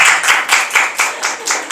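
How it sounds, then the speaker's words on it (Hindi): A class of students clapping together in several quick bursts, close and loud, in a rhythmic pattern of roughly eight claps. "ताली बजाओ सारे बच्चे"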